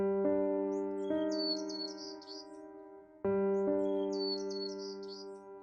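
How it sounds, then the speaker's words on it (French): A male white-crowned sparrow sings two clear song phrases close by, each opening with whistled notes and ending in a buzzy trill. A low steady tone runs underneath the song. "le bruant à couronne blanche mâle chante pour délimiter son territoire"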